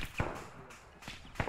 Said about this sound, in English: Something is definitely taking a shot at us.